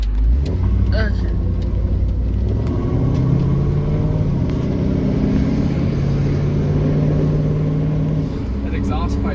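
An old Ford Mustang with a loose exhaust pipe idles loudly and steadily up close, a deep continuous rumble with a low drone, while people talk over it.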